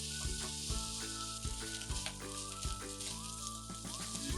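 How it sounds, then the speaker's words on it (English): Ground pork sizzles and crackles in sesame oil in a frying pan over medium heat, with a steady frying hiss and repeated clanks of a utensil stirring and breaking it apart. "Heat sesame oil in a frying pan over medium heat, then add the ground pork."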